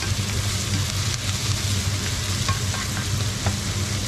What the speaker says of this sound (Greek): θα μαζέψουμε όλα τα υπολείμματα από τις γαρίδες που έχει γύρω γύρω εδώ το τηγανάκι μας